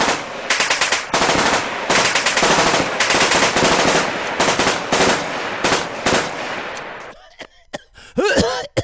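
Rapid bursts of gunfire ripping off in a backyard, dense overlapping shots for about seven seconds, then a handful of separate loud reports with a short pause between them.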